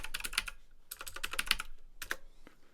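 Rapid keyboard typing in uneven bursts of clicking keystrokes, close and fairly clear, with short pauses between flurries.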